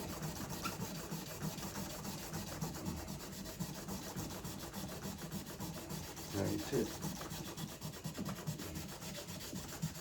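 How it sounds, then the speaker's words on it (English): Wet sandpaper rubbing steadily by hand over a goalie mask's surface to strip the emblems before painting, a continuous close scraping with short back-and-forth strokes and a slightly heavier burst midway. "Keep my sandpaper nice and wet."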